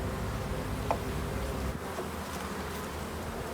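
Honey bees buzz around an opened hive, a close, dense drone of many wings humming steadily throughout, with a few brief knocks.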